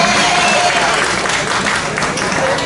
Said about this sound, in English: Can we please give some honor and applause for Miss Joanne Bland?